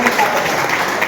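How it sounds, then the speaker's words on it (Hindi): A brief burst of audience applause at a Hindi poetry recital (kavi sammelan) held during Hindi fortnight, a dense clapping wash heard together with voices. "भाई तालियां चाहूंगा मैं अपने लिए चाह रहा"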